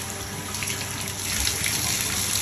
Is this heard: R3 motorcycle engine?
no